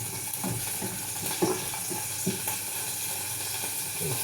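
Cooking oil sizzles in a hot pan with a steady frying hiss, punctuated by a few soft clinks and stirring knocks, fairly quiet and close, with no talking.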